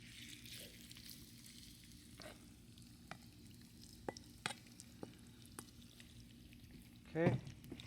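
Pork stir-frying in hot vegetable oil gives a low, steady sizzle with scattered ticks and one louder burst near the end, under quiet intermittent talk.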